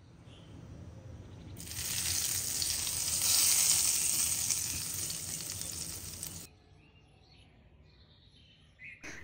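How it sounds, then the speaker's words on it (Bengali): Ghee tempering sizzles loudly in a pan after Kashmiri red chili powder goes in for a Bengali cholar dal, a dense hot frying hiss lasting several seconds before it drops away abruptly to quiet background. "ঘি গলে গেলে অ্যাড করে দিচ্ছি কাশ্মীরি রেড চিলি পাউডার।"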